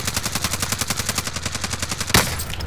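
Rapid automatic gunfire in Call of Duty Warzone (Cold War), steady rhythmic bursts running throughout, ending in one louder, sharper sniper-like crack near the end.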